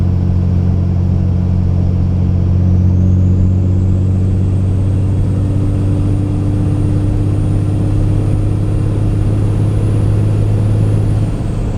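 A 5.9 Cummins diesel pickup truck engine fitted with an S&B cold air intake runs steadily up close, a loud continuous rumble with a slight rise in pitch partway through and a faint turbo whine above it.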